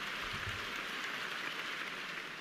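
A round of applause playing as a sound effect on a sports podcast, a dense steady hiss of many hands clapping, faint and even, with no talking over it.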